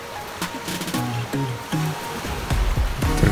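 Sea water washing at Rupat Utara beach, a steady broadband wash of gentle waves near the shore, growing louder in the last second, with faint tonal background sounds but no talk.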